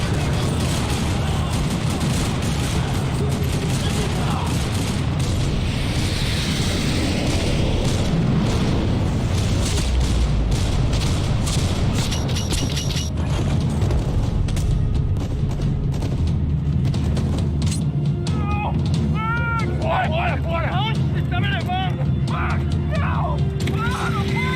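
Gunfire and explosions rattle through a parking lot in the video game Max Payne 3, a dense stretch of booms and bursts, with voices talking in the mix.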